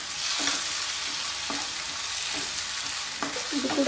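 Tomato puree frying and sizzling in a pan for a cauliflower and peas curry, a steady crackle with a few soft spoon scrapes while it is stirred.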